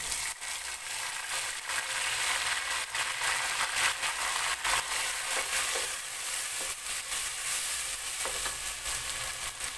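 Tomatoes hitting a hot pan for matoke, green bananas, a dense continuous sizzle and crackle with stirring scrapes, loud and steady with no talking.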